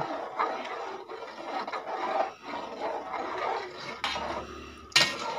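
Pitha being stirred into jaggery in a pot, with soft rasping scrapes and rubbing strokes of a utensil against the pot, a few sharper knocks toward the end, close and fairly quiet.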